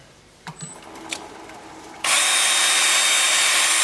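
A drill spinning a 2-inch sanding disc starts up loud and whirs steadily against a wooden hollow form after a couple of brief handling knocks, no talk.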